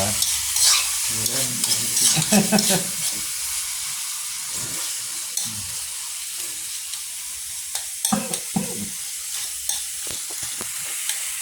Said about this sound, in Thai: ผัดกระเพราปลาครับพี่น้อง